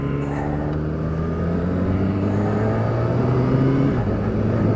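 A Kawasaki ZX6R sport motorcycle drones steadily while ridden on the road, engine tone holding a constant loud hum with slowly shifting pitch and no voices.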